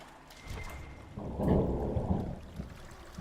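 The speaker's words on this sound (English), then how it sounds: "that was some very loud thunder outside my window" Loud thunder rumbles outside a window, a low swelling roll that builds after a quieter start and peaks midway before fading, with no voices over it.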